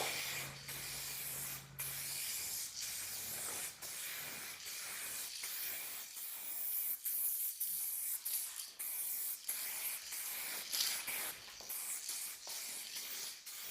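Aerosol can of clear coat spraying onto a 2022 Subaru WRX panel, a steady close hiss running in repeated long bursts with brief gaps between passes.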